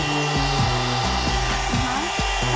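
Hot air brush hair straightener with built-in blower running on its low setting, a steady loud whirring motor and rushing airflow held throughout with slight pitch wobbles, close and alone.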